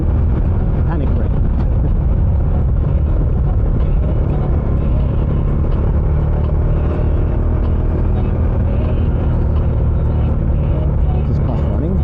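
Bajaj Dominar 400 UG2 BS6 motorcycle on stock exhaust, ridden on a Bohol road, gives a steady, loud low engine drone with continuous wind rush throughout, no clear revving peaks.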